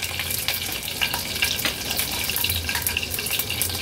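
Mustard seeds, cumin and a pinch of asafoetida hit hot oil with curry leaves over a low flame, giving a steady close crackling sizzle with small pops throughout, no voices.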